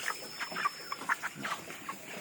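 Several chickens clucking softly in short, irregular bursts, close by, with no talking, as they are weighed before harvest.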